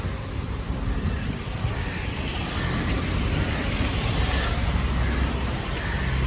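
Steady rain falls on a rainy afternoon with wet, muddy streets, making a dense, constant hiss with a low rumble beneath it. No one speaks over it.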